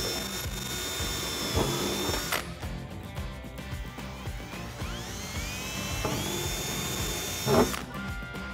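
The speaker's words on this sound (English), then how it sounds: "Now we are starting out with an 1/8 inch drill bit." A power drill with an 1/8 inch bit bores holes through both layers of a 2015-2021 Mustang Fastback deck lid, whining at high pitch, pausing, then spinning up again with short bursts of the bit biting through metal.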